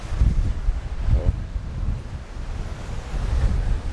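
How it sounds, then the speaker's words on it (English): Strong wind blowing across the microphone at a resort beach, with surf rolling and washing in a continuous, loud roar and no talking. "it's really windy"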